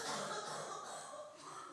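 A female character in the Europa Universalis IV strategy game gives a short, rough cough, close and fairly quiet, lasting under two seconds with no speech.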